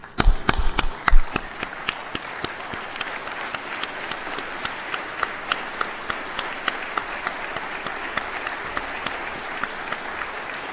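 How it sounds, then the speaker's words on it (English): A graduation ceremony audience stands and applauds, a dense, steady round of clapping with sharp individual claps standing out near the start, continuing evenly throughout. "Please stand up and give them all a round of applause for helping you."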